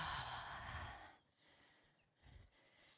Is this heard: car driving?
no